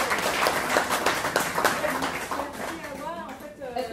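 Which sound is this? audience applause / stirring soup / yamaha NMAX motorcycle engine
audience applause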